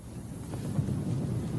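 Steady desert wind blows and buffets the microphone with a broad low rumble, continuous and fairly loud throughout, with no voices.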